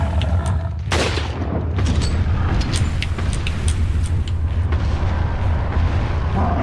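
Sniper rifle fire in the video game Resident Evil 4: one loud, sharp shot cracks out early, followed by a few fainter impacts over a steady, rumbling game soundscape. No one speaks.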